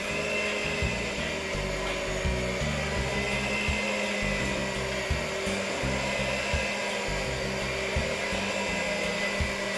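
Jamaican sweet potato pudding batter getting its final mix, a steady loud motorized whir running unbroken throughout with slight pulsing, no voices.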